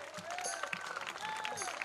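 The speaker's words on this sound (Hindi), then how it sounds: "इनके लिए तालियां बजाओ" A live audience at a patriotic ragini performance applauds in a steady, dense patter of clapping, moderately distant and even throughout.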